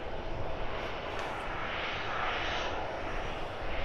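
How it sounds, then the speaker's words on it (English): A Ryanair Boeing 737-800 jet at Edinburgh airport gives a close, steady engine roar with a hissing upper band, continuous for a few seconds without speech. "Second of the Ryanairs then. This one is flight 6624. Destination is Krakow. It's a 737-800."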